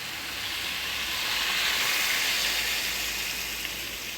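Water poured into a pan of sautéed food hisses in a loud, steady sizzle that swells slightly and holds without pause, with no voices.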